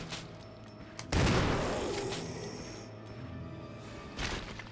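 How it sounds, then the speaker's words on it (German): Two loud gunshots in the Resident Evil HD Remaster video game, a sharp blast followed by a long rumbling decay and a second shot near the end, over a steady game soundscape. "Zwei Schüsse."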